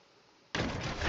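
A door opens in the Roblox horror game Pressure after a keycard is used, bursting in as a sudden loud sound midway through the clip and sustaining after a faint quiet start, with no talk.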